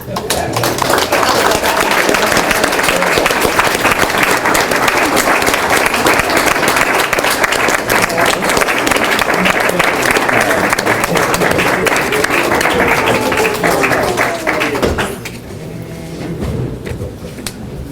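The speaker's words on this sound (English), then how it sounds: "I think we should all clap" Loud, sustained audience applause fills a city council meeting for about fifteen seconds, a dense wash of clapping hands with crowd noise, then it abruptly drops away to quieter room sound.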